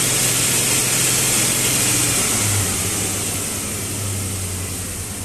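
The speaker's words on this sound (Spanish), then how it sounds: "Ahí el motor acaba de volver a relantí, aproximadamente 850 revoluciones por minuto." Car engine easing down from higher revs and settling back to idle around 850 rpm, a steady close drone whose pitch slides lower and fades slightly toward the end, no voices over it.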